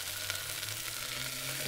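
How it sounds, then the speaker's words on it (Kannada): Fenugreek leaves frying in a pan for a tomato rice bath, a dense continuous sizzle close up with soft stirring underneath, no talking. "2 ನಿಮಿಷ ಫ್ರೈ ಮಾಡೋಣ"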